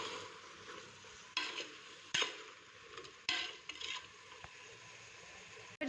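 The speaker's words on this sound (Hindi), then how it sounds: "यहाँ पर अब हम बैंगन को भी 1 से 2 मिनट के लिए जो है वो भूनेंगे मसाले में इस तरीके से।" Eggplant stir-frying in masala for a potato and eggplant curry, a steady soft sizzle with intermittent scraping stirs of a spatula in the pan, close and moderately quiet, no talk.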